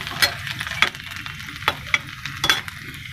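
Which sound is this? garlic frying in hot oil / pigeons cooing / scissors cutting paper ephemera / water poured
garlic frying in hot oil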